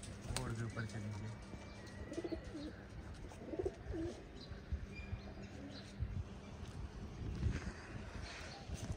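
Pigeons in a rooftop loft during baby pigeon training, cooing in soft repeated phrases under steady background noise and nearby movement.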